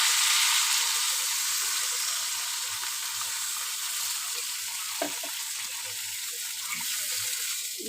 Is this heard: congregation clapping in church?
no